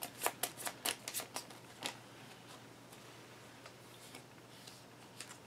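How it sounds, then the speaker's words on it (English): Digimon trading cards being shuffled by hand at a table, a quick run of crisp riffling snaps early on, then quieter scattered taps and a brief final flick, close and faint. "and we shuffle."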